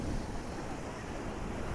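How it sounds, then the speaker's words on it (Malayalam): Sea waves break on Alappuzha beach in a continuous, loud, close surf roar mixed with heavy wind noise on the microphone, with no talking. "നല്ല തിരമാല തിരമാലുണ്ട് കേട്ടോ"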